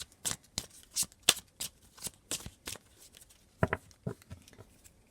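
A deck of oracle divination cards is shuffled close by in a run of quick riffling bursts and soft slaps, irregular but steady, with no talking.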